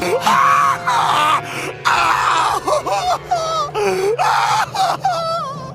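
An English-dubbed anime character from the Dragon Ball Ginyu Force fight lets out loud, shrill, wavering screams and moans after a punch, several strained cries in quick succession.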